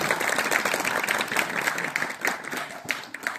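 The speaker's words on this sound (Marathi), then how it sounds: "एका जोरदार टाळ्या झाला पाहिजे त्या परफॉर्मन्स" An audience at a campfire cultural program applauds a performance, producing dense, continuous clapping from a crowd that stays fairly steady with scattered sharper claps throughout.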